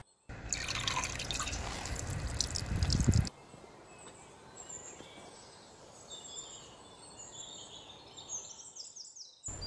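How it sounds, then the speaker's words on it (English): Warm water splashes over a muddy toy koala for a few seconds, a close, loud running rinse that stops abruptly, followed by quiet drips and faint chirpy squeaks. "Give koala a warm rinse."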